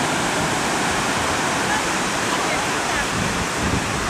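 Sea waves wash steadily onto a beach at Side, Turkey, a dense, continuous broadband surf roar close to the microphone with little variation over a few seconds.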